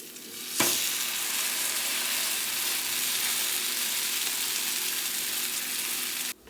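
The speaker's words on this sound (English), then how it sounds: "So you just want to make sure that you're pressing down just gently on it just to make sure it's sticking to the pan." Loud, steady sizzling as peanut butter and banana stuffed French toast fries in a pan, starting with a sharp hiss as it hits the hot surface and crackling continuously until it cuts off.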